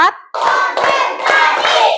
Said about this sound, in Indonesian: Oke, tepuk semangat.